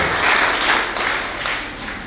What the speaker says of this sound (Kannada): ಸಂಸ್ಥೆಯ ಮುಖ್ಯೋಪಾಧ್ಯಾಯರಿಗೆ ಕೂಡ ಒಮ್ಮೆ ಚಪ್ಪಾಳೆ ಮೂಲಕ ಆತ್ಮೀಯವಾದಂತಹ ಸ್ವಾಗತವನ್ನು